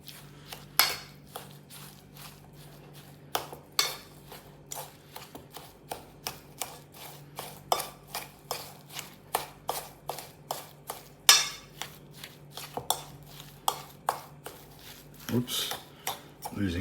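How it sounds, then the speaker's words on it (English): A fork mixes ricotta and a raw egg in a bowl, making a fast run of close, sharp taps and scrapes on the dish that keeps going throughout, with a low steady hum underneath. "Mix it all through. Just use a fork."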